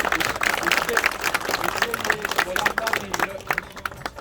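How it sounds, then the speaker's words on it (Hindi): Audience applause at a motivational talk, a dense crowd clapping loudly and continuously with voices and cheering mixed throughout. "तालियां बजाओ भाई"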